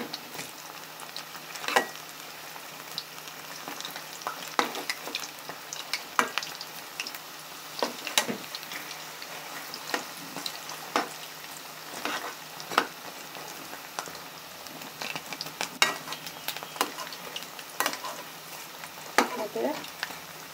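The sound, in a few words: cauliflower pakoras frying in oil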